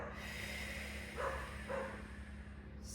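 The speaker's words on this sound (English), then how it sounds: "Can you hear next door's dog on the video?" A neighbour's dog barks next door, a few faint, muffled barks heard at a distance through steady low background hum.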